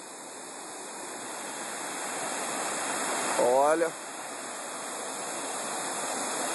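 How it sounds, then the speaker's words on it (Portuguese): Steady broadband rush of a small waterfall on a forest stream among bromeliads at Cachoeira do Abismo, continuous and even throughout, with a brief spoken word from a man partway through. "barulhinho de cachoeira"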